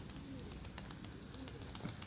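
Pigeons coo softly several times over a steady outdoor background hiss, close by and fairly quiet.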